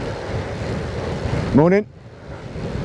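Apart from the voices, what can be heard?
wind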